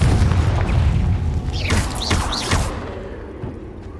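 A Confringo fire spell from the video game Hogwarts Legacy erupts with a loud booming blast and crackling sweeps in the middle of continuous game noise, then fades into a lingering rumble.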